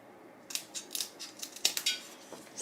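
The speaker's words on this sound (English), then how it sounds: "I'm just using an old scissors to cut the ends off." Old scissors snipping the ends off craft sticks: a quiet run of about ten short, crisp clicking snips at an uneven pace, close by, with no talking.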